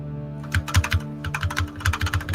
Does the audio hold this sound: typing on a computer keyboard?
yes